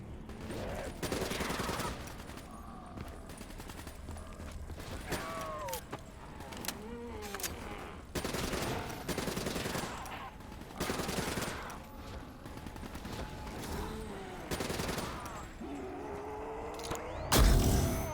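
Gunfire from Call of Duty: Black Ops III, with sustained rapid automatic bursts repeating throughout, loud and dense, alongside game effects and a heavy impact near the end.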